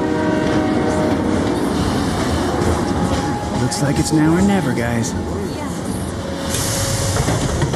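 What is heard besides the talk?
train in video game Final Fantasy VII Remake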